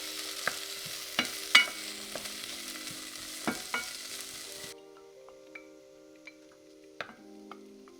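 Minced garlic sizzles steadily in a hot pan, a soft continuous frying hiss punctuated by occasional sharp clicks and taps, fairly quiet and close with no talking.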